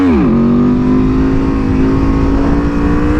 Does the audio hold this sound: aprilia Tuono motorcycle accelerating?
yes